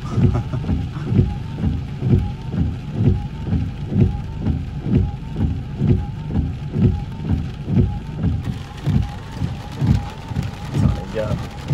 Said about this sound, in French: Il pleut à mort.